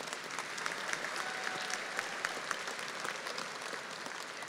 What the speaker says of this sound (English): Let's have a round of applause for these graduates, please.